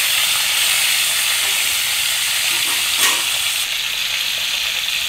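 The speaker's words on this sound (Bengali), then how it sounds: "তেলটা গরম করে আমি লেগ পিসগুলো একটু হালকা ভেজে নিব।" Chicken leg pieces fry in hot oil for a light browning, a steady loud sizzle and hiss with a brief sharper crackle or stir midway, no voices.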